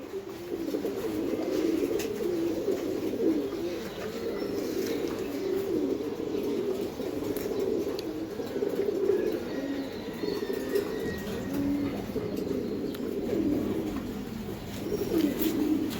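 Pigeons on a farm of flying and racing birds keep up a soft continuous cooing murmur, with occasional faint chirps and a light hum underneath.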